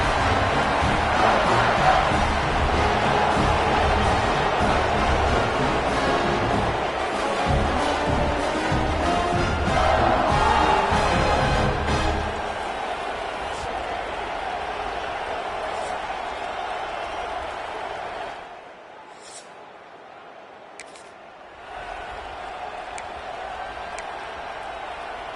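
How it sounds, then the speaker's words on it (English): A stadium crowd roars at an EA Sports college football video game matchup, Minnesota Golden Gophers at Ohio State Buckeyes, as a dense continuous wash under a voice. It thins after a while, drops almost to silence briefly, then returns more quietly. "Listen to the crowd energy here in the early going."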